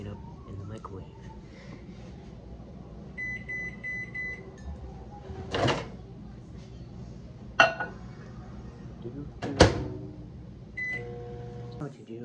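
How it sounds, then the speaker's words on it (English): A microwave oven hums steadily while heating milk, with several short beeps and a few sharp clinks of a cup or dish, close by and under faint background talk. "I will be taking milk and heating it up in the microwave"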